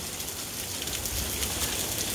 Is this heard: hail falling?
yes